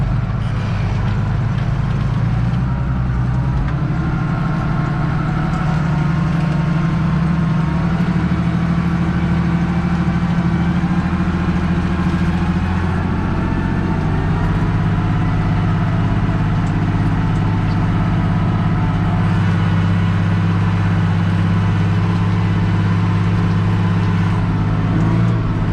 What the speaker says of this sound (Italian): Sentite che presa che c'ha però il trattore.